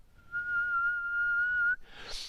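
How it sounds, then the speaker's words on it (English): A single sustained whistled tone at 1 kilohertz, held steady for about a second and a half, close and clear, followed by a brief breathy hiss as it ends. "here's my 1 kilohertz whistle"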